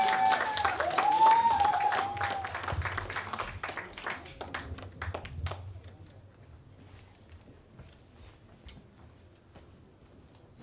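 An audience applauds at a folk song competition awards ceremony as the grand prize is presented. The clapping is dense and loud at first, then thins and fades to scattered claps over the final seconds.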